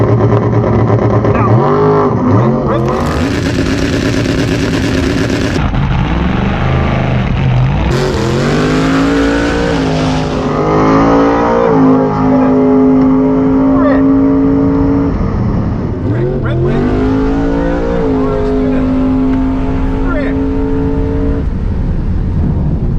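A race car engine roars and revs hard on slicks at a drag strip, rising through several gear changes in a long, loud, continuous pass.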